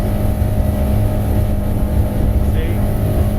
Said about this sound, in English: if I want to hit that rev limiter, I can trim it up a hair.